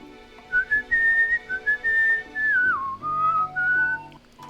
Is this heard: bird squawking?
no